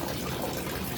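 Steady rush of water flowing out as a fishpond on a third floor is drained, near and continuous, a dense liquid gush with no talk over it.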